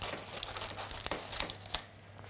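Parchment paper parcel of baked asparagus being opened, soft crinkling and rustling with a few sharper crackles and a tearing rasp, close and fairly quiet, no talk.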